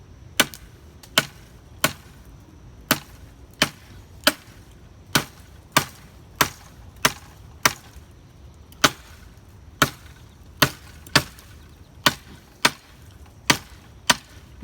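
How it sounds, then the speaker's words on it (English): A handmade parang chops repeatedly into dry, dense wood, giving about twenty sharp, crisp strikes in a steady, slightly uneven rhythm, close and loud with no talking. "You can probably tell by the sound of this is a dry piece of wood here"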